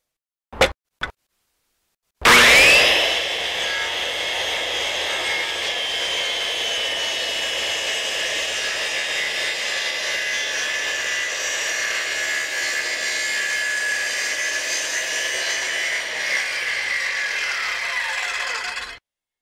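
A power saw cuts through timber with a loud, sustained whine and roar that runs steadily for about sixteen seconds, preceded by a couple of sharp knocks and then near silence.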